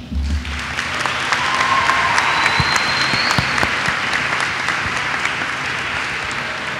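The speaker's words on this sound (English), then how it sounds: "I just want to give you all a round of applause" An audience at a school district event applauds students, a broad, sustained crowd clapping that holds steady for several seconds at close range, with a few faint tonal whistles or feedback tones and no speech.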